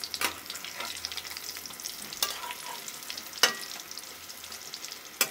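Donuts made with red amaranth fry in oil, a soft, close bubbling sizzle with a few sharp clinks and scrapes of a utensil stirring and turning them, no voices.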